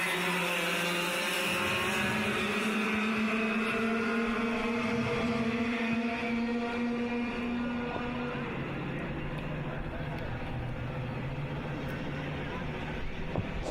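Clubman Heavy class go-karts race at the 2010 City of Adelaide Kart Titles. Engines drone steadily with rising and falling whines as the field passes, under continuous commentary.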